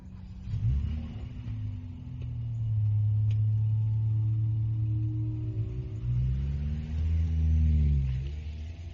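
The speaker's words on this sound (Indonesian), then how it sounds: "Aku duduk di samping Wildan yang mulai menyetir mobilnya dan berangkat menuju Bogor." A car engine hums steadily as the car pulls away and drives off, a low rumble rising and settling through the ride with no talk over it.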